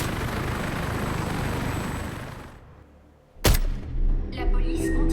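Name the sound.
helicopter in the video game Warface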